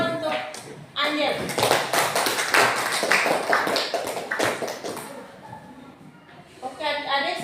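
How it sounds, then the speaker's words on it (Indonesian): A group of children in a junior high school classroom in Nangaroro breaks into clapping, a scattered burst of applause that swells and fades, with an adult voice speaking over parts of it. "Tepuk tangan untuk Angel."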